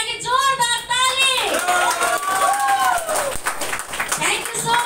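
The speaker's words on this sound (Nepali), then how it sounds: "एकचोटि गौतम बाली सरको लागि जोरदार ताली।" A Nepali audience at a health talk in Damak breaks into loud clapping and cheering, with shouts and whoops rising over a voice on a microphone, sustained throughout.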